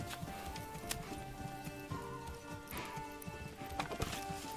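Horse hooves clip-clop steadily in the medieval city-building game Manor Lords, a continuous rhythmic clatter heard close and clear with no talking over it.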